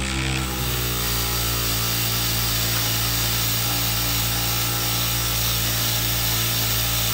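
A JoolTool power sander fitted with 80 grit abrasive grinding steadily after a brief start, a loud, continuous whirring hum with a gritty scraping edge and no pauses, with no one talking.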